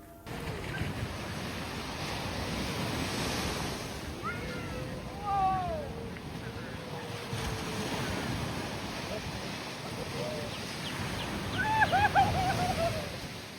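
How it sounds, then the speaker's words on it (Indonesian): Ocean surf at Ngliyep beach in Malang rolls in as a constant broad wash with wind rumble on the microphone, and distant voices and faint cries sound now and then. "karena ombaknya juga nggak terlalu besar ya, jadi cukup safe buat berenang di pantai"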